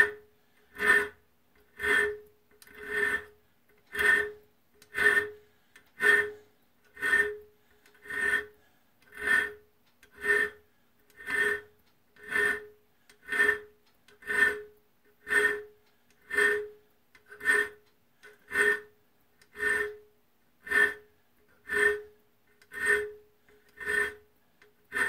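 A hand file rasps on a steel twist drill bit in about twenty regular strokes, evenly spaced and close, with brief quiet gaps between passes and no talk.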